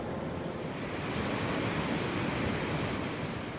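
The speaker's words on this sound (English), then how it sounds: "These waters flow at 20 miles per hour, making it one of the wildest rapids in the world." The Niagara River rapids at Niagara Falls, New York, churn with fast-flowing water in a constant, dense, close roar that never lets up, with no voices.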